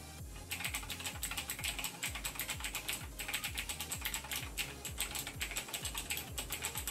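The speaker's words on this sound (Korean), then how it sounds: "기존에 쓰던 청축 모델의 타건음을 한번 들어보시겠습니다" Clicky blue switches on a Razer BlackWidow mechanical keyboard rattle under fast, continuous typing, with loud close keystrokes coming in quick irregular bursts and no talking.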